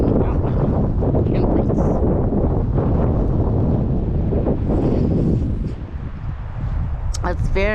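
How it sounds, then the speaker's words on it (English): Strong breeze at Willow Springs Lake on Arizona's Mogollon Rim, a continuous loud roar and buffeting rumble of wind across the microphone that dips briefly before surging again. "It's very breezy here,"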